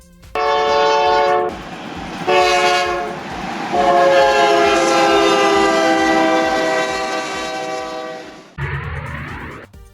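A train sounds a loud, sustained multi-tone horn in several long blasts, with rolling rail noise beneath and a pitch drop at the end as it passes close by.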